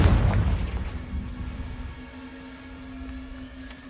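A Confringo blasting spell explodes in Hogwarts Legacy, one loud booming blast at the start that rumbles and fades out over a few seconds, with a faint lingering hum.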